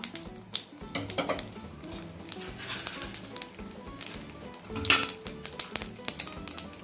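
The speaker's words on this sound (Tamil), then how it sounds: "ஒரு டீஸ்பூன் கடுகு ஆட் பண்ணிக்கலாம்." Mustard seeds popping and crackling in hot sesame oil in a small tempering ladle, a dense run of sharp irregular pops and spatters with a couple of louder bursts, close up and with no voices.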